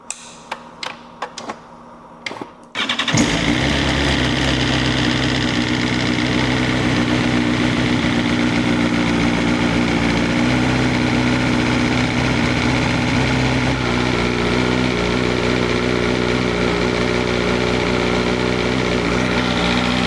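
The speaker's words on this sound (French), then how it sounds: "je vais la démarrer 10-15 secondes, la couper et voir vraiment mon vrai niveau" A track-prepared motorcycle is cranked over with a few short bursts, then fires and settles into a loud, steady idle close by, running continuously with a slight change in tone partway through.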